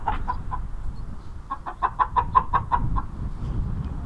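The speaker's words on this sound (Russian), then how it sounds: "Хоть куры вот они." Chickens clucking in a village yard on a windy day, a loud, close run of rhythmic clucks that rises into a quick series, then fades, over wind noise.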